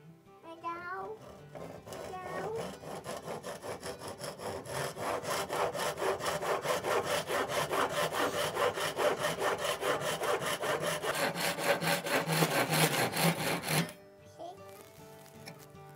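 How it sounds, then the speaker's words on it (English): Steady back-and-forth sawing cuts a kerf into the eye end of a wooden replacement handle for a double bit axe, loud and close with a quick rhythmic rasp, running continuously before stopping abruptly near the end. "So I'm gonna cut the kerf down about 3/4 of the way down the eye."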